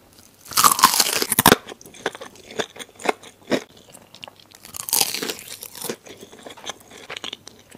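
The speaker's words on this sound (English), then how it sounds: "This is spicy miso garlic chicken." Loud, close crunching bites into crispy spicy miso garlic fried chicken, with a sharp crackling burst at the start and a second bite partway through, followed by softer chewing in between, no talking.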